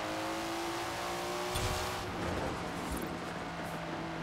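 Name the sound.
Nissan Skyline GT-R turbos and blow-off valve in Forza Horizon video game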